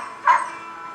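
A single short dog bark or yip rings out at an animal shelter housing hundreds of dogs, cats and rabbits, brief and moderately near over a steady background hum.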